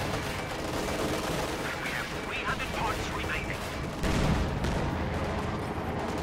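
Tank and anti-tank gunfire in a WW2 strategy video game, dense battle noise with repeated shots and booms in a continuous rumble of combat, fairly loud throughout.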